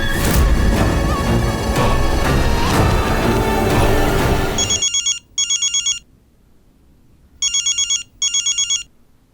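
Loud dramatic music cuts off abruptly, then a telephone rings in two pairs of bright, electronic trilling bursts separated by silence after a call is placed.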